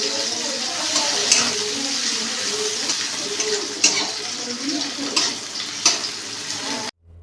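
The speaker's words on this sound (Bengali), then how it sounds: "ওই তেলের মধ্যে দিয়ে দিতে হবে কেটে রাখা ক্যাপসিকাম। দিয়ে আবারও ভালো করে ভেজে নিতে হবে।" Chopped capsicum fries in hot oil in a pan, added after onions for homemade pasta: a steady, close sizzle and crackle, with a few louder scraping stirs rising above it.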